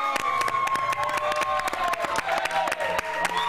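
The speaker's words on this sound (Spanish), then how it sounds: "Vamos a darle la bienvenida y el aplauso a nuestra" A studio audience on a live Spanish-language morning TV show applauds as a woman named Jessica appears in a bridal dress, with dense clapping mixed with music and some crowd noise.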